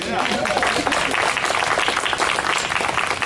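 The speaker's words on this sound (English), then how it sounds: "Yes, round of applause." An audience gathered to honor Black women suffragists claps in a brief, dense burst of applause, steady and fairly loud for a few seconds.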